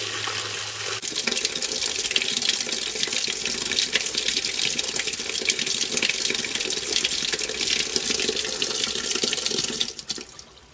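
Water rushes steadily from an electric pump used for watering, drawn from a driven-in tube well. The flow is loud and continuous for nearly ten seconds, then cuts off near the end, with no talk.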